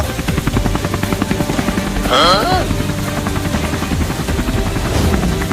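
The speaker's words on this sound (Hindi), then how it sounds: "अरे वहाँ तो एक हेलीकॉप्टर भी उड़ रहा है।" A helicopter in flight gives a steady, loud rotor chop across the whole stretch, with a brief whistling effect and voices over it.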